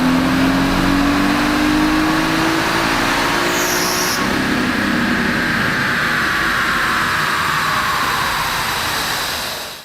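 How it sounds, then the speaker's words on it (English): Nissan 370Z with a Stillen supercharger kit run hard on a dyno, a loud sustained engine roar rising steadily in pitch with supercharger whine, easing off at the very end. "we dynoed the 370Z with the stillen supercharger kit"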